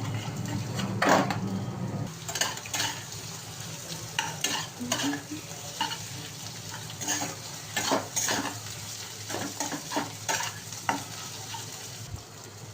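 Two cracked eggs are scrambled and fried in a pan as part of a chire pulao. A continuous, close sizzle runs under irregular spatula scrapes and occasional clinks against the pan.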